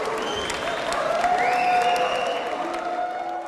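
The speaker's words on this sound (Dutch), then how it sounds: "En er was applaus, maar er was ook wel een beetje boegeroep" A television award ceremony audience applauds at length after a winner is announced, a dense, steady wash of clapping with tonal music and crowd noise blended in; no distinct booing stands out.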